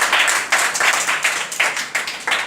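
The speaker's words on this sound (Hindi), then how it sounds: "जोरदार तालियां इसके लिए, जोरदार तालियां बजाइए" Students in a classroom clap together in a steady rhythm of sharp, close bursts repeating about twice a second, a moderately loud group clap with no voices over it.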